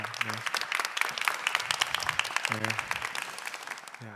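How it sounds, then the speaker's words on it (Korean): A church congregation at a fall revival service claps warmly to welcome a pastor, dense steady applause throughout, with brief bursts of a voice speaking over it near the start and end. "우리 큰 박수로 모시도록 하겠습니다"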